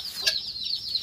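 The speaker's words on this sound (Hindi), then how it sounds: "अब यहाँ से मुर्गे को खोल देते हैं" A rooster released from its pen beats its wings in a short burst of flapping, close and brief, with a sharp rustle near the start.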